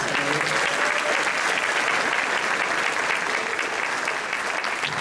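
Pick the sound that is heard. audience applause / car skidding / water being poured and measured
audience applause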